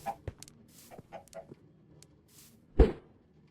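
Chickens in Minecraft give scattered short clucks, mostly faint and spaced apart, with one louder cluck near the end.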